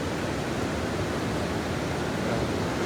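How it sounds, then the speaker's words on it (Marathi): Water rushes at the Barvi dam at night, a dense, loud, unbroken roar of flow that stays constant throughout with no voices. "डॅमला मस्त पाणी आलं आहे."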